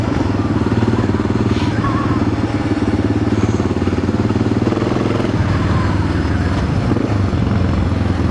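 Yamaha XT600 dual-sport motorcycle engine running close by, a loud continuous throbbing rumble with a rough, uneven idle that dips slightly partway through.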